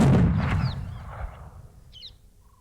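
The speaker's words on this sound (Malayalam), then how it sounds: "വെടി." A single gunshot booms loudly at the start and fades with a lingering echo, followed by faint bird chirps in a quiet outdoor setting.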